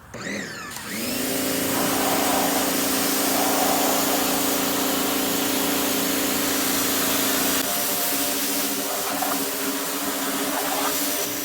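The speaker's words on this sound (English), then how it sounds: "pressure washer turned on" A pressure washer motor whines loudly after starting up, holding a steady droning hiss for several seconds as it sprays near a 1967 Ford F100 truck, then the tone shifts slightly but the spray keeps running.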